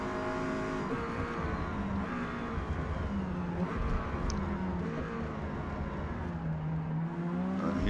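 Alpine A110 racing engine in Forza Motorsport at Virginia Raceway, a continuous droning hum that rises and falls in pitch through the gears during a drag race down a straightaway, with another car close by.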